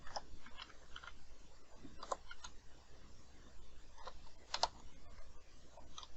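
Typing on a computer keyboard in a Linux terminal while entering commands for an Oracle patch, heard as a soft, irregular run of close clicks with a few sharper keystrokes, quiet and with no talking.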